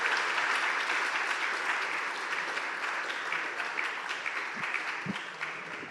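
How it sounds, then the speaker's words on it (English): An audience at a startup demo day applauds with steady, dense clapping that holds at an even level and thins slightly toward the end. "So let's have another clap for them."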